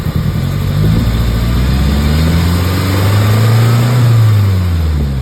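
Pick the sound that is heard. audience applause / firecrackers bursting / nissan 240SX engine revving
nissan 240SX engine revving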